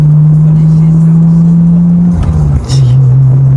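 A car fitted with an aftermarket exhaust idles with a loud, close, steady low drone that dips and wavers briefly before settling back into its rumble.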